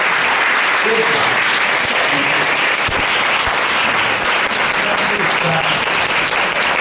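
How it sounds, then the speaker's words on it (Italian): Sustained applause from a crowd, steady and dense throughout, filling the whole space with continuous clapping. "facciamo un applauso alla mia amica"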